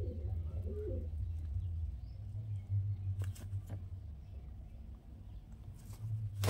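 Pigeons coo softly in repeated low, throaty phrases close by, with occasional flutters and light patter. No voices are heard.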